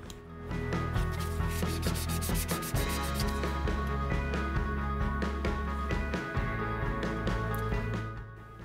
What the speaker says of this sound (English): Before being carefully sanded back with a 1000 sanding block.